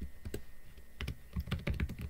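Fingers type quickly on a computer keyboard while code for a database insert command is entered, with a steady run of close, crisp key clicks and a few louder strokes, no voices.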